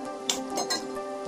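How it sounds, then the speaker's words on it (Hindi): A metal pot clinks as it is set down on a gas stove to start tea, a few brief close clanks over steady background hum. "गैस पर फटाफट एक बर्तन चढ़ाते हैं और उसका फ्लेम ऑन करते हैं"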